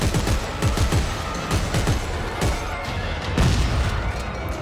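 Rapid bursts of machine gun fire from a Dead Space 3 game battle against necromorphs, loud and dense shots layered over heavy booming impacts and crashes, with no talking.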